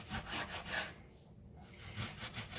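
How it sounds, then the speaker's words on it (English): Knife cutting sirloin beef into bite-sized pieces, faint repeated rubbing strokes of the blade with a short pause midway. "I'm going to go ahead and cut this sirloin up into bite-sized pieces"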